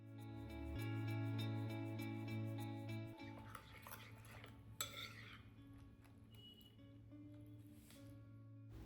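Banana being mixed into an egg and sugar batter in a Kerala home kitchen: a utensil stirs and clinks against a bowl in soft bursts over a steady tonal hum in the background.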